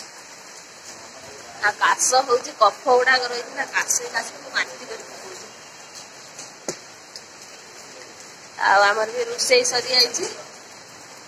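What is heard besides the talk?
light rain falling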